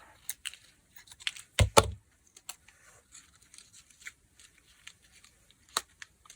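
Scissors snipping paper collage strips for junk journal embellishments, a short burst of close crisp cuts followed by scattered light paper rustles and taps.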